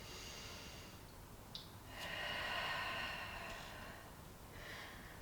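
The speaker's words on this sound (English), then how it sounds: "taking a nice one last deep breath in" A slow, deep breath drawn in during a yoga session, soft and close, preceded by a brief sniff and followed by a gentle exhale.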